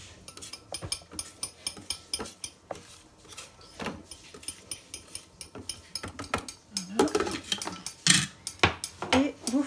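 A spatula scrapes the sides of a Thermomix bowl while a lemon meringue log is being made, giving close, repeated scraping strokes and light clinks in an uneven rhythm that grows louder and busier toward the end.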